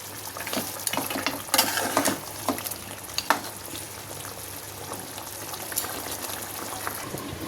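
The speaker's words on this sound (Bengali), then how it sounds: "তো আমার মাংসটা প্রায় রান্না হয়ে গেছে।" Country chicken curry with jackfruit seeds and potatoes bubbling in a pot, a steady close simmer with occasional louder bursts and clinks, no voices.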